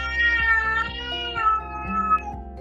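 A cat meows close and loud in a long drawn-out wail, its pitch wavering and sliding down, with faint soft tapping underneath.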